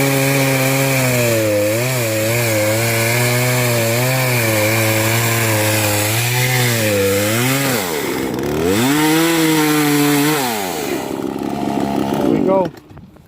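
A Poulan Pro chainsaw with a chisel chain cuts tree stumps flush to the ground, its loud close engine whine rising and dipping in pitch under load before it drops off near the end.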